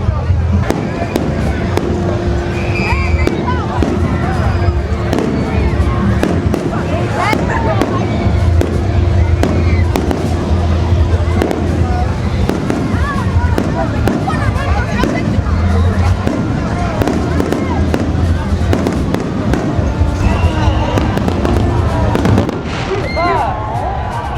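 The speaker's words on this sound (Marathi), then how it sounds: "5 मिनिटात किंवा 2 मिनिटात 1 मिनिटात फटाका फुटायला सुरू होणार आहे." Loud Independence Day fireworks at the Salem Fair pop and crack continuously in rapid bursts, mixed with a crowd's chatter and background noise.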